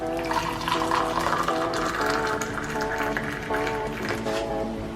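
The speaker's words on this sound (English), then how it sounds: "I'll just bring my cup and I'll add hot water." Hot water is poured into a cup in a kitchen, a continuous steady splashing fill lasting several seconds under background music.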